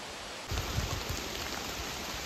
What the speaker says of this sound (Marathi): पाऊस जोरातच लागायला लागलो आहे.